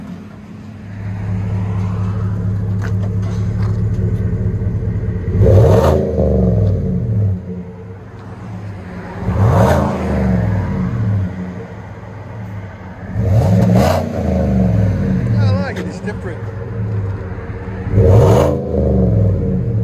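A 2017 GMC Sierra with a 5.3L V8 and Flowmaster Super 40 exhaust, revved four times over a loud, deep idle, each rev swelling then falling back, with a brief spoken remark.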